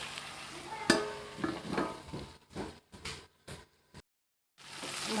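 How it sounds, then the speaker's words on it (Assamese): Ivy gourd stir-fry sizzling in a pan as a spatula stirs it, with scraping strokes and a sharp clatter early on, then brief bursts of sizzle broken by short gaps of near silence. No one speaks. "ভাজিখিনি মই এতিয়া অকণমান লৰাই দিছোঁ।"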